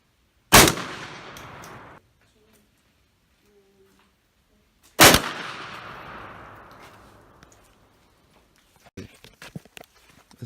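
Two loud, sharp shotgun blasts from a Versa Max firing 3-inch shells, about four seconds apart, each followed by a long rolling echo that fades out, then a few faint clicks and handling noises.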